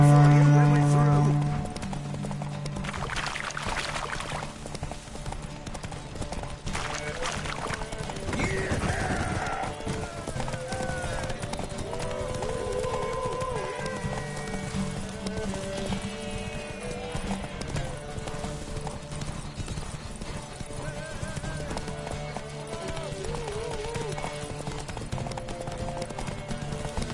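Roach, a horse in The Witcher 3, gallops with a steady rhythmic clip-clop of hooves and the occasional whinny, heard under a voice and game music.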